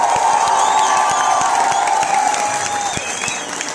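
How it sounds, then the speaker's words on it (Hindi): A large audience at a literary festival stage event applauds and cheers to welcome a guest, with loud, steady clapping throughout and a few whoops. "जोरदार तालियों से उनका इस्तकबाल करें"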